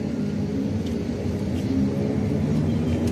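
A bus idles and rumbles close by, a steady low engine drone with a faint whir, holding even and unbroken throughout with no voices.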